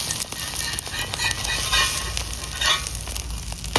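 Rotis frying in hot oil for egg rolls, a steady close sizzle and crackle that runs continuously without talk.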